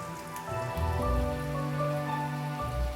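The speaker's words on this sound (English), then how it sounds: "Fry the other side for another 3 to 5 minutes." Steady crackling sizzle of hearts of palm frying in hot oil, dense and continuous with a low hum beneath, no voices.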